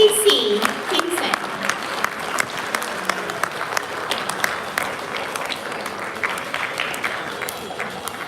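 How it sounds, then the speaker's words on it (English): An audience at an international band and orchestra competition in Malaysia claps steadily and densely for several seconds, the applause filling the hall without letting up. "Another round of applause from"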